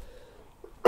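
A single short, sharp sneeze bursts out near the end of a quiet stretch at a board game table, close and loud after faint murmuring.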